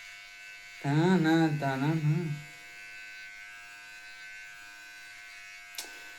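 An electric hair clipper cutting hair at home hums steadily and quietly throughout, with a person's voice speaking briefly over it near the start.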